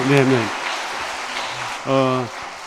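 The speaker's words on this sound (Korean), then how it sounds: "우리 김우신 박사님 다시 한번 우리 장모님한테 큰 박수" A church congregation claps during a Sunday afternoon family-restoration worship service, a burst of applause between spoken lines, with a voice talking before and after it.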